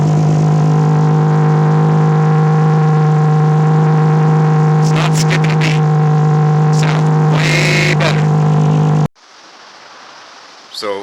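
A car engine idles after an intake manifold spacer install, a steady, loud hum with a strong low drone and a few brief rough bursts. It cuts off abruptly near the end and leaves quieter background noise.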